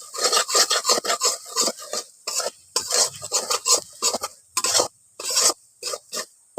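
A spoon scraping and rubbing through fried onions with turmeric and chili powder in a pan, a fish curry being prepared. It makes repeated short rasping strokes in quick bursts with brief pauses, close and fairly loud, with no talking.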